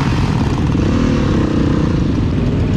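A chopper motorcycle engine roars loud and close at a motorcycle rally, a rough, continuous low rumble held steady throughout.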